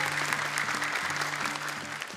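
Steady audience applause for the jury panel on an Indonesian TV Quran memorization competition show, a dense continuous clapping crowd throughout with no talk over it.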